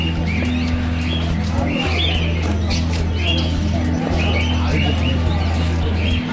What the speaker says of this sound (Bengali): আরে ওই দেখো পাখিগুলো ঘুরে ঘুরে এসে ঢুকছে।